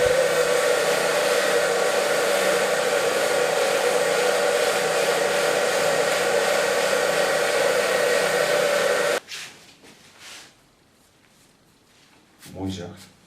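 A hair dryer blows steadily at close range in a salon, drying freshly dyed hair for about nine seconds. It then switches off, leaving quiet handling noises and a short rustle.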